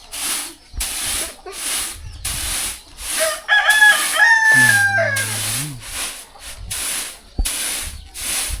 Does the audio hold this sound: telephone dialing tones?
no